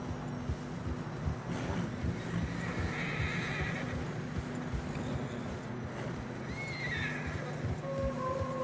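Tired horses ridden along a narrow, snowy trail in the video game Red Dead Redemption 2 let out two shrill whinnies over steady clip-clopping hooves and a low wind rumble.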